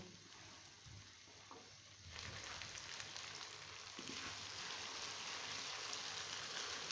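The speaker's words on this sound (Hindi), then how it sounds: "मसाले को हमने अच्छी तरह से भून लिया है।" Masala roasting in a pan for Lahori chikar cholay gives a soft, continuous frying sizzle that grows fuller and louder around two and four seconds in, with no voices.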